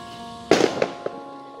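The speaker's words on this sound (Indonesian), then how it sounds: "Kembang api kok siang-siang?" A sharp burst of fireworks pops, followed by a couple of smaller cracks fading out, moderately near, with no talking.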